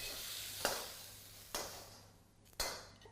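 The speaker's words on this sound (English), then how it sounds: "So, nice structured stir frying here." Vegetables and mushrooms being stir fried for pork lo mein, a steady soft sizzle broken by three sharp bursts as the pan is tossed or stirred, close and alone without talk.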